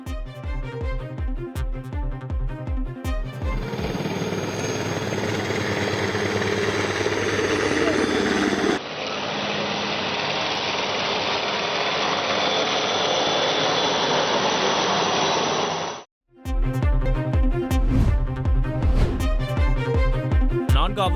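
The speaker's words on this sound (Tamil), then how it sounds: "அப்போது விமானப்படை ஹெலிகாப்டர் மூலம் மலர்கள் தூவப்பட்டன." An Air Force helicopter flies over a Republic Day flag-hoisting ceremony in Chennai, showering flowers. A loud, steady engine and rotor roar holds for about twelve seconds, with music and ceremony sounds before and after it.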